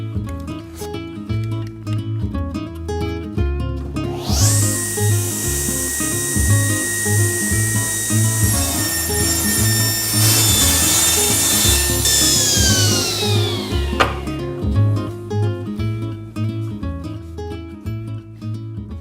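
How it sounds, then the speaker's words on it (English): A power saw cuts a thin wooden strip for a rocking chair rocker, a loud steady whine running about ten seconds over a background of music before winding down. "I'll just cut the last strip for this rocker now."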